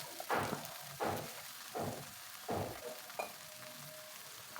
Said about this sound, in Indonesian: Kita tumis dulu atau kita osreng dulu sampai layu.